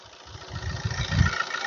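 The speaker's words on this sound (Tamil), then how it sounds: "என்ஜின் நாய்ஸ் கேளுங்க" A car engine idles and then rises in a brief rev, a steady low rumble swelling louder toward the end.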